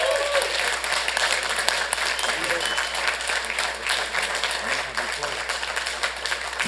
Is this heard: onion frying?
no